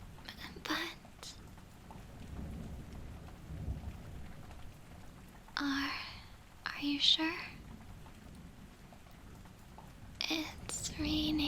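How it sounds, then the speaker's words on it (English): Heavy rain pouring steadily with a dense hiss and patter, thunder rumbling low beneath it, while a soft voice speaks quietly over the downpour. "It's raining really hard."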